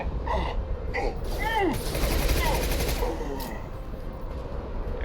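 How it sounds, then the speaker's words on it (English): Gunfire in the Mass Effect 2 video game, rapid sci-fi weapon shots and whizzing energy sounds amid a noisy firefight, with a voice speaking over the action. "Taking fire."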